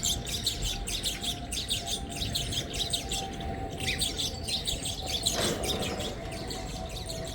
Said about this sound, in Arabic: الطيور هاي المغردة